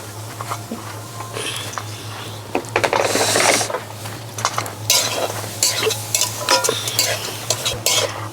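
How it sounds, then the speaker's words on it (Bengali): Grated coconut and crushed cardamom lightly fried in a wok, a spatula scraping and stirring in steady rasping strokes over a soft sizzle, close and fairly loud. "আর এই নারকেলটা এখন হালকা ভাজা ভাজা করে নেব"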